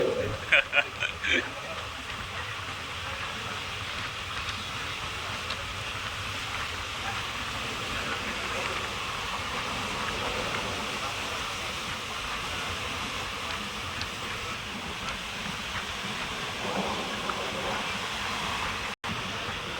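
A train rumbles and clatters along the rails through Assam tea estates in a continuous, fairly loud drone, with voices faintly mixed into the noise.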